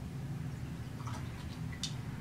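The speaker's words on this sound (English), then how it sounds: "Let the water and paint drip off of it." Water and paint drip off a freshly dipped sola wood flower just pulled from a dye and water mixture, giving a few small, close, faint drips over a low steady background hum.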